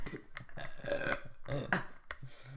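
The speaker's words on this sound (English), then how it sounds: "Oh, you go burping and eating all the way through." A person burps repeatedly and loudly in quick, irregular bursts across a casual podcast recording, close to the mic, with no other speech.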